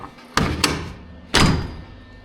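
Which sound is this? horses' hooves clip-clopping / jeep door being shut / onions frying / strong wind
jeep door being shut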